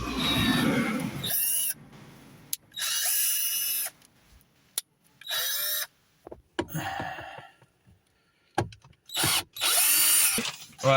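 A power drill drives screws at its lowest torque setting during a car stereo upgrade in a BMW E60 530i, several loud whirring bursts of a few seconds each, separated by short pauses and clicks.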